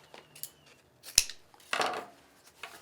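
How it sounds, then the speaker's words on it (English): Scissors snip through chevron ribbon while a wreath is assembled: a sharp metallic cut stands out, with softer shearing and ribbon handling around it, close and alone. "Let me go ahead and cut my chevron."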